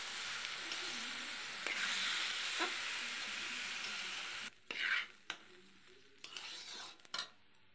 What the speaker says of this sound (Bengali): তো প্রথমে চালটাকে একটু ভালো করে নেড়ে নেবো কড়াইতে।